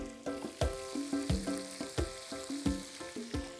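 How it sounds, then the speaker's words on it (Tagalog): Meat, onion and garlic browning in a hot pan for mango adobo, a steady close sizzle broken by regular stirring scrapes and knocks about twice a second. "So habang binabrown natin yung ating karne, sibuyas, then yung ating bawang."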